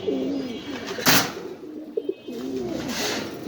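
Pigeons at a pigeon farm in Mirpur coo in repeated low, rolling phrases nearby, with a brief burst of rustling or wing noise between calls and no talking.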